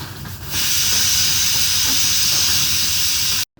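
A steady, loud hiss of steam from a pot of boiling rice fills the clip after a brief softer start, continuous and close, cutting off abruptly near the end.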